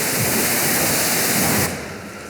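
Water hose spraying and rinsing car paint, a loud, close, continuous hiss of water spray that drops sharply in level near the end, with no talking.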